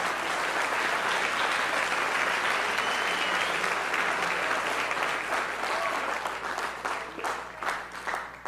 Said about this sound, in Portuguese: aplauda Jesus, aplauda Ele